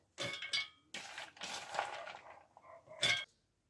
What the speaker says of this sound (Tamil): இதை இப்போ மிக்சி ஜாரில் சேர்த்துக்கொள்ளுறேன்